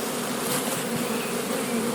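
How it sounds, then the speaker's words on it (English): Honey bees swarm around an opened, fallen hive in a dense, continuous buzzing drone, loud and close with no voices. "I'm having to really work to keep these bees under control."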